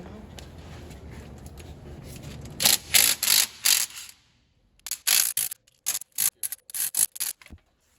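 A hand ratchet cracks loose the differential cover bolts on a Ford Ranger, producing close bursts of quick metallic clicking in an irregular series, with a brief pause between the two groups.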